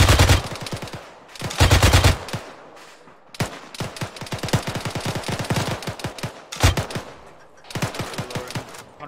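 Machine gun fire in the military shooter ArmA 3, loud bursts of rapid automatic shots in several strings with brief pauses between them, close and dominant.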